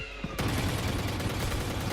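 Rapid gunfire through a wall in the tactical shooter Valorant at a VCT EMEA Kickoff 2024 esports match, a sudden dense burst of shots that starts a quarter-second in and keeps going loud and continuous.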